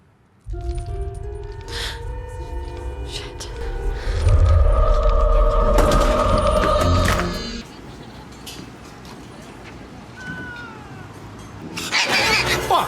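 Many cats meowing and caterwauling in a horror film scene, overlapping drawn-out yowls against a deep rumbling score that swells and then drops off, with further cries and a harsh burst at the end.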